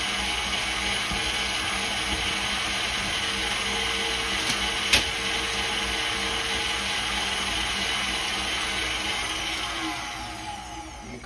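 A mixer creams together smoked salmon dip ingredients in a bowl with a steady, moderately quiet whirring hum, plus a brief click of the beaters striking the bowl midway, and no voices.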